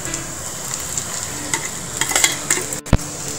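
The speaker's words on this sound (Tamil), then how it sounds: "கடுகு பொரிஞ்சிச்சு. இப்போ நான் இஞ்சி போடுறேன். வந்து பூண்டு போடுறேன்." Ginger and garlic frying in hot oil with popped mustard seeds for a tomato pickle, a steady close sizzle with stirring scrapes and a sharp clack near the end, no voices.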